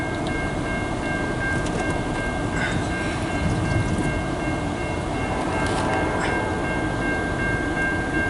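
A long CN eastbound mixed freight train, led by locomotives 8904 and 8804, passes close by in Port Huron, Michigan, with a loud, steady rumble and rail roar that holds throughout, and a sustained tonal note above it.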